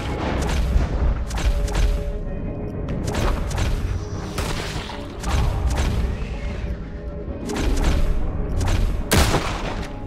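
Rifle gunfire in Red Dead Redemption 2 during a coach robbery, loud booming shots in irregular bursts and volleys, some close and heavy, others trailing off, with no talk over them.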